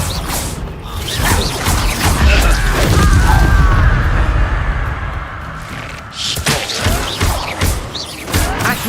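In Hogwarts Legacy a Confringo spell goes off as a loud, close blast with a rumbling roar that swells and fades over several seconds, then sharper cracks and thuds of the fight.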